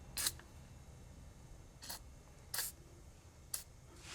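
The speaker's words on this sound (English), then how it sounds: "Hit it with a little more PB Blaster." PB Blaster penetrating oil sprayed onto a rusty nut while a BMW X5 4.4i E53 front lower control arm and sway bar link are replaced: four short hissing bursts, close and fairly quiet, over a low background hum.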